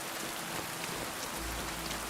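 Rain falling in the video game Kingdom Come: Deliverance II, a continuous soft hiss of drops pattering on surfaces, even and unbroken, with no talking.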